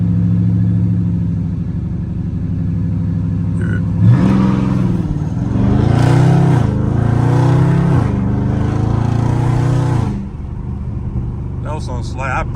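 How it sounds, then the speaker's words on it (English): A Dodge Scat Pack muscle car's engine idles loudly, then surges and revs hard for several seconds with a rough, rising roar as the car launches from a stop in traffic with tires spinning, before dropping back off. "these cars spin so easy"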